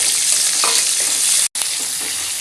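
Green chilies fry in hot oil in a pan while being stirred, with a dense, loud, steady sizzle broken by a brief gap and a few soft scraping stirs.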